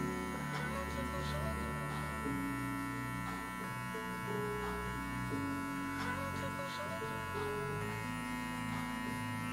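Electric hair clippers fitted with a one guard, lever fully open, buzz steadily with a mains-like hum while cutting hair in a barbershop fade, with a voice talking over the drone.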